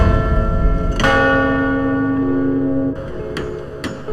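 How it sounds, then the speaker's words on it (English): Large bronze church bells ring in the towers of Notre-Dame Cathedral in Paris, loud and close, one long resonant strike sustaining into further overlapping peals. "Large bronze bells were placed inside the towers. Their powerful sound reached across the city."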